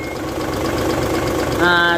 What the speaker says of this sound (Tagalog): So ito na yung makina niya, 6M70.